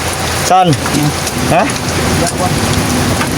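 Heavy rain pours steadily during a roadside tyre change on a loaded FAW 380 HP truck, a loud dense hiss throughout, with brief shouts from a man over it.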